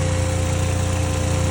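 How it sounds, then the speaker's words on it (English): A Suzuki Jimny engine runs steadily at a constant pitch with an even, close, loud mechanical drone, with no talk. "the block, the engine that's spinning,"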